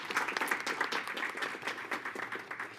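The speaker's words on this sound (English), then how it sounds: "Let's give a round of applause for Joe." Steady round of applause in a school board meeting room, a small group clapping quickly and densely at moderate volume for the whole stretch, with no talking over it.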